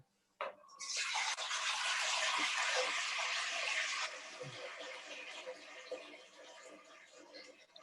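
Tap water gushes into a cooking pot to boil four liters of water for pasta, with a loud, steady rushing pour for about three seconds and then a softer, lower stream as the pot fills.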